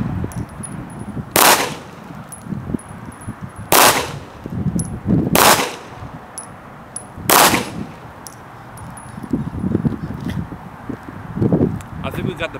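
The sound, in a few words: Remington RM380 pistol firing six rounds at target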